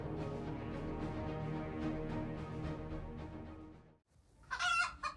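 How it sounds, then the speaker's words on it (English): Chickens cluck and squawk continuously at close range, briefly falling silent before a sharp, loud squawk breaks out. "Two chickens had to actively defend each other from the persistent attempts of a cat"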